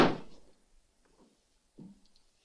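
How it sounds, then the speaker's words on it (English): A door is shut in a sheriff's office scene in the 1981 film Incident at Crestridge, one sharp close thud at the start followed by faint quiet shuffles and a soft knock. "Shut the door."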